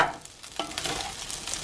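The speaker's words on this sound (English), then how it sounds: "now I am frying the rice" Rice with cooked mix-ins fries in a pan, a steady close sizzle with scraping and stirring clicks running through it.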